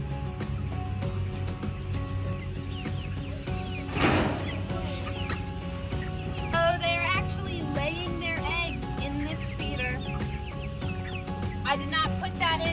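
Chickens cluck and murmur close by in a coop, with repeated short calls and occasional louder squawks over a steady background hum, and a person speaks briefly among them.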